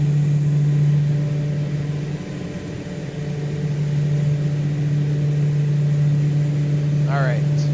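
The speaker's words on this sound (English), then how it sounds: "I just hear the engine and the propellers." A Black Square Turbine Duke in a flight simulator gives a loud, steady drone of its turboprop engine and propellers. A strong constant tone holds throughout and dips briefly near the middle, and a short rising whine appears near the end.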